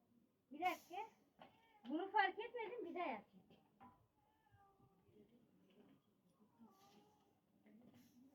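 A cat meows loudly nearby in a few drawn-out calls, followed by quieter scattered sounds with a faint voice in the background.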